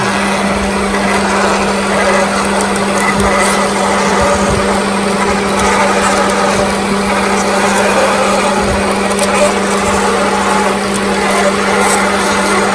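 A steady, loud machining whine from a lathe as a gun drill bores into a large plastic rod, with a constant hum and grinding texture throughout.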